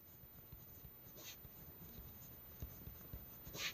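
Pen writing a math equation by hand on paper, soft continuous scratching strokes with small taps, close and quiet, with no talking.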